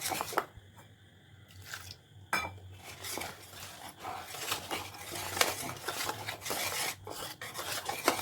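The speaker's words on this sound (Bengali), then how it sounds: "এটা মিশিয়ে নেবো এরকম করে ভালো করে।" A spoon scrapes and rasps around a bowl, mixing a semolina, sugar and water batter for taal patishapta, with steady rubbing strokes and occasional clinks against the rim.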